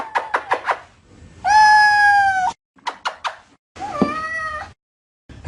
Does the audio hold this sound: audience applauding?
no